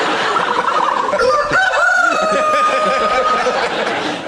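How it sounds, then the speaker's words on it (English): An ostrich call with a strange rooster-like, crowing and clucking quality, loud and close, drawn-out tonal cries rising and falling over a steady background with no talking. "And this is the sound of an ostrich."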